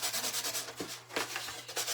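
Foam board is sanded by hand with steady back-and-forth rubbing strokes, soft and close, under a faint low background hum; no talk is heard.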